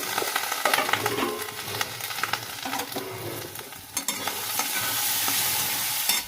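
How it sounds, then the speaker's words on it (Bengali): Dal is tempered and fried in a pan, a close sizzling hiss broken by scraping stirs and clatter, rising into a fuller, steady sizzle near the end. "ডালটা সাঁতলে নেওয়া হবে"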